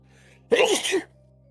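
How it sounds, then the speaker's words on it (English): One sharp sneeze bursts out close by after a quiet pause, brief and forceful, then fades back to a faint hum. "single sneeze"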